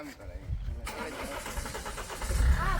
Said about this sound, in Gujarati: અમે કરીએ ગાડી ચાલુ